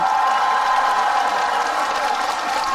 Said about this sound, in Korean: 박수 한 번만 주시겠어요?